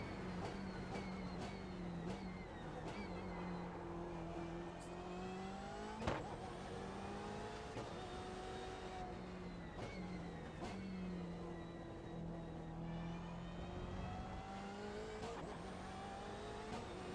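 A BMW race car accelerates hard around a lap at Road America, its engine note climbing and dropping through repeated upshifts and revs, loud and continuous from the cockpit with no voices.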